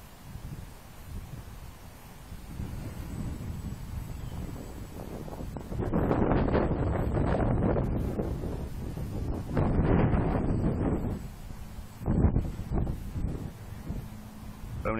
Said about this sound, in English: It is very windy out though.